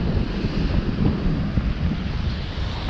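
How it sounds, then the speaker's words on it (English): A south-southeast wind blows across a beach on St. George Island, roaring steadily into the microphone as a broad, loud rumble, with surf noise mixed in and no talking. "We got south-southeast winds today."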